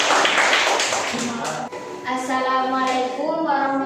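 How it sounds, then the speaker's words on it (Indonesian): Classmates in an Indonesian junior secondary civics lesson clap for a group presenter, a short burst of brisk hand claps that fades after a second or two as voices take over. "Kasih tepuk tangannya dulu."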